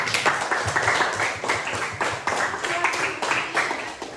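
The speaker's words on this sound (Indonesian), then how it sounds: "tepuk tangan dulu buat kalian" Students in a junior high school classroom clap together, a dense burst of hand claps lasting a few seconds with no talk over it.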